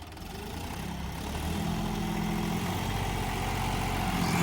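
A John Deere tractor engine runs steadily while pulling an 8-foot rotavator through soil, a continuous low diesel drone with a slight rise in loudness partway through, heard alone without talk.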